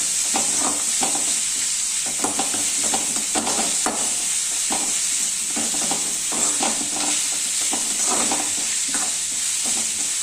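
Onions sautéing with garlic in a pan for prawn thokku, continuous sizzle with frequent spatula scrapes and stirring knocks at close range.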